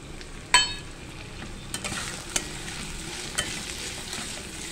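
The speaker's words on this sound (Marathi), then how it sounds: "हे मसाले आता मी ह्या तेलामध्ये टाकते सगळे।" Homemade masala, coriander-cumin powder and red chilli powder frying in hot oil for a prawn curry, a steady close sizzle with a sharp clink as they go in and a few light stirring taps.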